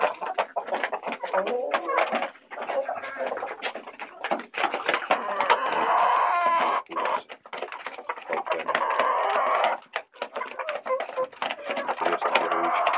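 Hens of Legbar, Jersey Giant and high-production laying breeds cluck and chatter close by in a busy, continuous stream, with occasional scratching and rustling noises around them.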